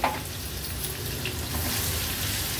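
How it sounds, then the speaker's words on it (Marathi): Green chili, ginger and garlic sauté in hot oil, giving a steady, close hiss and crackle of frying that grows slightly louder and continues throughout, with no talking. "आता तेलावर छान आलं, लसूण आणि मिरची आपण परतून घेऊया"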